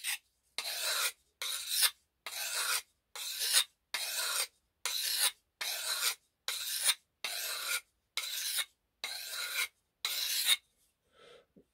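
A knife blade rasps steadily back and forth across an abrasive sharpening stone, about a dozen even, close strokes in a regular rhythm with short pauses between, no voices present.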